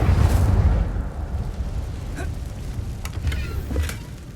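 Incendio fire spell blast in the game Hogwarts Legacy, set in a cave: a loud, roaring whoosh of flame at the start that fades into a rumbling burn with small crackles and pops.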